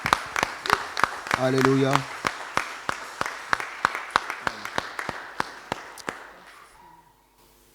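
A congregation in a French church applauds the Lord with a steady run of sharp, evenly spaced claps, loud and close, while a voice speaks briefly over them before the clapping fades out.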